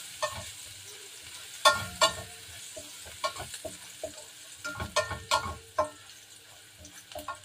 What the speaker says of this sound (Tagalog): maglagay tayo ng garlic. Yan, haluin natin.